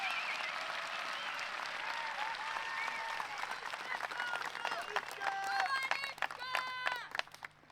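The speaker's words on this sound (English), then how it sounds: "And just listen to the crowd." A disc golf world championship gallery cheers and claps after a shot lands on the island green, a broad roar of applause with whoops and whistles rising toward the end, some distance from the microphone.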